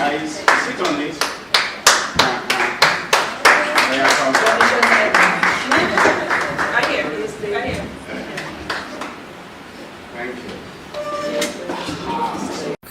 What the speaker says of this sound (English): Clap for them, please.